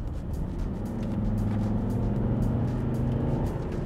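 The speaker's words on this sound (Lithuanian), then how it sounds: "Tai yra 5 cilindrų agregatai, jie turi labai charakteringą variklio garsą." A Volvo XC's five-cylinder diesel engine revs up close, a rising throaty drone that holds steady and loud throughout with no talking.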